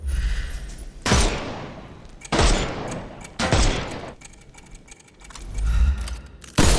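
Bursts of gunfire in the video game Sherlock Holmes: Chapter One, loud repeated volleys roughly every second or so, each a sharp broadband blast with a short decaying tail and rattling shots between.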